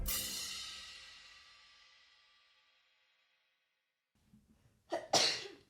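After a fading, quiet stretch, a single sharp sneeze bursts out close by, with a short breath just before it.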